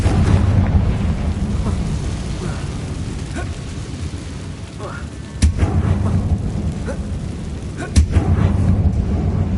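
Loud Confringo fire spell blasts in Hogwarts Legacy rumble heavily throughout, with two sharp, booming impacts standing out about three seconds apart over the continuous roar.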